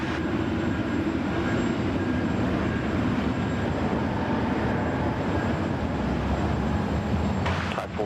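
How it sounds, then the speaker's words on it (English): A Cathay Pacific airliner landing on runway 16 right at Sydney Airport, heard as a loud, continuous broadband roar of engines and rushing air that holds steady throughout at close range. "nicely done there from Cathay, just bringing it in there on runway 16 right"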